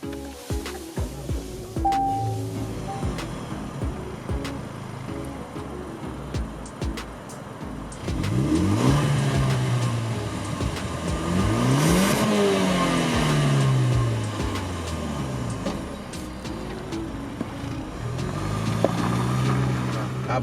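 A 2020 Range Rover Velar S P250 engine running while driving, with a steady motor drone and rising, falling revving sweeps as it accelerates and shifts, heard up close throughout.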